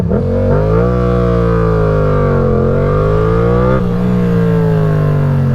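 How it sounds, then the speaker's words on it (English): Motorcycle engine revs up with rising pitch for a fast start, holding a loud steady drone before shifting as it accelerates away, close and continuous. "eventually you can give it some good gas and really get going on it"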